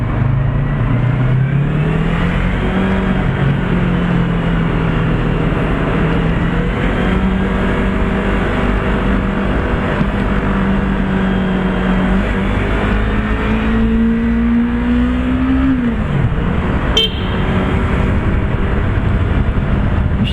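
A Yamaha R25 motorcycle riding through Ankara traffic, its engine droning steadily and close with rising and falling revs, a firm climb near the end, then a brief sharp click, under constant wind noise.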